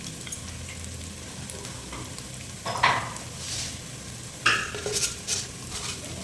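Cumin and fennel seeds hit hot oil in a pan for a village-style fish curry, giving a soft sizzle with a couple of sharper crackling bursts and light metallic scrapes of stirring.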